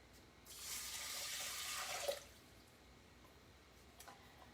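Two cups of water pouring into a pot for an orange chicken dinner, a steady faucet-like rush lasting about two seconds, then a brief clink and quiet drips afterward.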